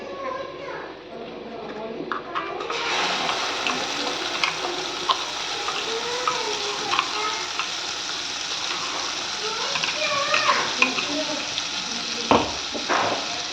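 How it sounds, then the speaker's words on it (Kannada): Freshly ground chutney tipped into a hot pan: a steady bright sizzle and crackle with bursts of spattering and utensil clinks, while a person talks over it throughout. "ಈಗ ನೋಡಿರಿ ಈ ಚಟ್ನಿ ರುಬ್ಬಿಕೊಂಡಿನಲ್ಲ ಇದು ಹಾಕ್ತಿದ್ದೀನಿ ನಾನು ಇದ್ರೊಳಗೆ"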